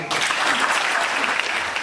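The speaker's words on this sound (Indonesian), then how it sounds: "Mungkin tepuk tangan dong." Audience applause at a seminary anniversary talk show, a dense, steady burst of clapping starting abruptly and sustained close and loud for under two seconds.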